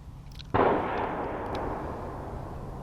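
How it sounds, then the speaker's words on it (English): A single sharp firework bang goes off nearby at night at an urban campsite, followed by a long rolling echo that slowly fades. "Firework or something."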